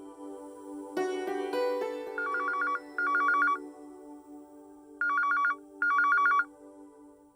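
A telephone rings in a domestic family scene, its electronic bell sounding in four distinct bursts of rapid trilling, two close together, a pause, then two more, over a soft sustained background tone.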